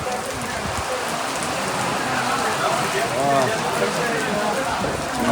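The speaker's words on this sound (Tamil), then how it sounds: "பிச்சை கவர் பண்ணுறதுக்குள்ளே மழை மோஸ்ட்லி பேஞ்சிருச்சு" Steady, loud rain pours down at Salem SRP Cricket Stadium, a dense continuous hiss of drops hitting surfaces, with voices mixed in underneath.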